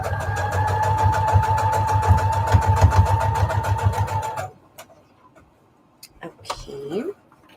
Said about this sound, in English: And let's get this sewed in. I'll just use a straight stitch for this.